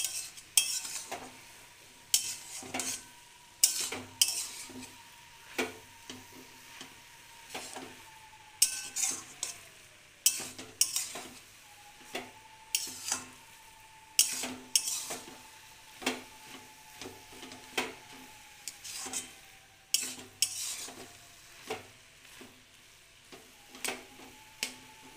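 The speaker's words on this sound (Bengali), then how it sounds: "আরও খানিকক্ষণ এটা ভাজতে হবে।" Grated carrot halwa mixture frying in ghee in a pan, stirred with a spoon that scrapes and clinks against the metal in steady repeated strokes over a soft continuous sizzle, close and fairly quiet.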